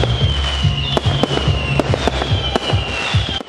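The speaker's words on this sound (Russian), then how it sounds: "Концерт, длившийся 2 часа, завершился необычным дымовым салютом" Smoke fireworks burst at the close of an open-air symphony orchestra concert, a rapid series of sharp cracks and pops over a continuous high whistling whine, fairly loud and close.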